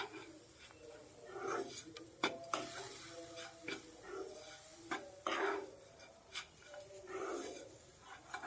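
A spoon scrapes and stirs sweet samosa filling in a pan with water just added, giving intermittent clinks and scraping strokes at close range, with faint soft sizzling underneath and no talking.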